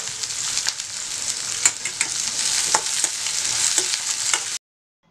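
Pirandai (adamant creeper) fries in hot oil with a steady, bright sizzle, and stirring adds scattered scrapes and clicks. The sound stops abruptly near the end.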